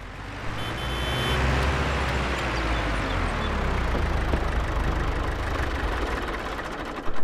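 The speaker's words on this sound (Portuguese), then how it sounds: "Barulho do câmbio dele." A steady tractor engine drone in Farming Simulator 22 runs throughout with a low gearbox whine shifting in pitch as it works through its gears, with no talking.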